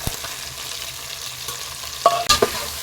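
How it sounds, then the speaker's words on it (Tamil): Eggplant and carrot for a brinjal drumstick sambar sauté in a pan, giving a soft continuous sizzle broken by a few brief scraping stirs and clinks near the end, with no voices. "இப்போ காய்கறிகளை நல்லா வதக்கி விட்டுடலாங்க"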